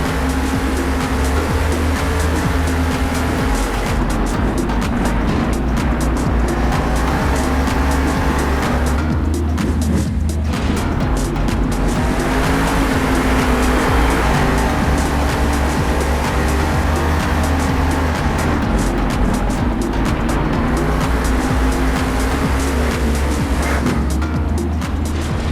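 Two monster trucks, Higher Education and Stone Crusher, race side by side at a Monster Jam event, their engines roaring loud and continuous with revving surges and tire noise across the whole run.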